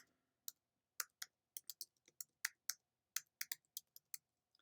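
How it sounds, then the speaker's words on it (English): Typing on a computer keyboard: a quick, irregular series of crisp, close key clicks in short bursts, quiet and alone with no talk. "as none of your names are Albin Rose, you would type in your actual name"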